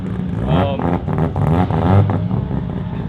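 A Nissan S13 drift car's engine revs hard and close, its pitch climbing and falling in repeated surges as the car slides.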